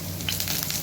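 Chana dal hits hot oil in a pan while making poha upma, giving a steady close sizzle across the whole short moment with no voices.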